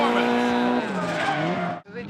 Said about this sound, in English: He gets into a deep angle drift and clears the corner without straightening out at all